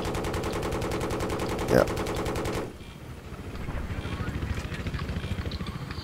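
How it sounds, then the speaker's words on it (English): Rapid automatic gunfire rattles in the Battlefield 3 video game, aimed at a helicopter, a dense, steady burst lasting over two seconds before it cuts off, leaving the helicopter's rotor thrum while voices talk over it. "He's shooting at us."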